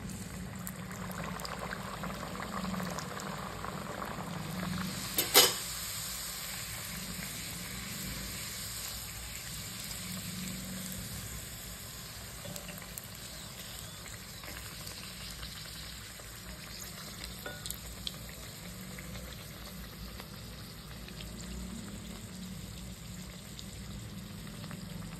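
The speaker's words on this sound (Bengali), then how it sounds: "এক করে কচুরিগুলো ভেজে নেব।" Green peas kachuri, a Bengali-style stuffed puri, frying one by one in hot oil in a karai wok, giving a steady close sizzle throughout with a brief louder splash early on and no talking.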